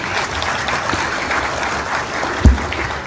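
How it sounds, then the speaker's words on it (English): Steady applause rises from a university convocation audience, even and continuous, with one brief thump near the end and no voices above the clapping. "May I have a big round of applause for him?"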